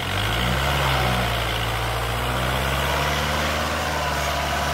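A tractor engine hauling a plough and stuck in the field drones as a steady, low, heavy rumble, close and constant, with no variation in pace.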